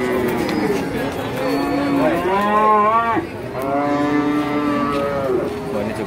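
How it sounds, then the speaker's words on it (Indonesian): Cattle moo repeatedly at a livestock market for young beef cattle, two long loud overlapping calls close by, with crowd chatter and voices underneath. "Wah, ini sebagian sapi sedang turun."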